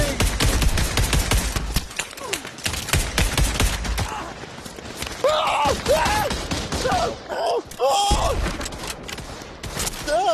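Dense gunfire from a Pavlov WW2 D-Day battle, with rapid bursts and repeated shots crowding the scene, loud and near, as frantic voices shout over the fighting.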